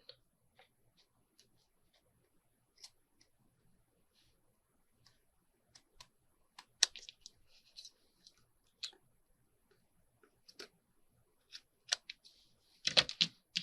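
Paper is cut with faint, sparse snips and crisp rustles that gradually grow denser and louder toward the end, recorded close in a quiet room.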